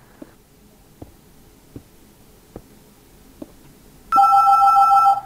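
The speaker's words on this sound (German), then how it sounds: "Hui hui, Telefon." A telephone rings loudly in a single burst near the end, after several sharp, evenly spaced clicks over a quiet hum.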